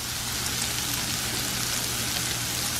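Onions and peppers sauté in a pan with pepper and garlic powder for an omelette, giving a steady, close sizzle and crackle that runs evenly throughout with no talking.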